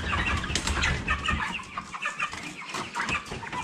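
Broiler chickens in a poultry house cage tier cluck and squawk continuously, a dense nearby flock with some wing flapping, no talking.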